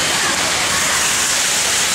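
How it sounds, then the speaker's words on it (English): A fountain of green water in Atlanta splashes continuously, a dense, steady hiss of falling water heard close and loud with no break. "Look at this fountain, like green water."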